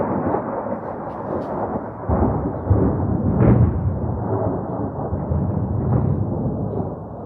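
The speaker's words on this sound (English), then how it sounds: "I'm gonna keep recording so you can hear the thunders" Thunder rumbling through a thunderstorm: a dense, continuous low roar with heavier rolling swells partway through, loud and enveloping, with no talk.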